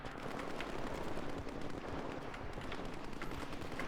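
Gunfire rattles in the video game S.T.A.L.K.E.R. during an attack by the Monolith faction, coming as dense, fairly faint bursts of shots over a rough, steady background.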